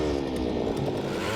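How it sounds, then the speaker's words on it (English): A hand auger grinds steadily through thick lake ice while ice fishing for carp, a continuous loud mechanical drone with no pause or talk. "Richard and Mike struggle to break through the ice with the hand auger"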